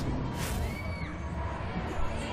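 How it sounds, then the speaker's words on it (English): A crowd at a college gymnastics meet between Utah and UCLA cheers loudly and steadily, a broad roar of many voices that swells briefly near the end. "Safina De Jesus for UCLA got this crowd excited"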